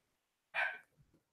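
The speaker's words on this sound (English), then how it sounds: "I think our dogs are gonna be barking" A single short, sharp dog bark, fairly faint and slightly distant indoors, followed by a soft trailing noise and then quiet.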